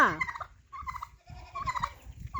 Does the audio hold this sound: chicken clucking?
yes